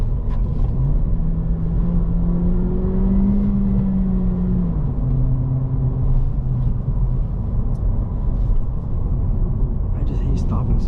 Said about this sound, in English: And then you could downshift like this.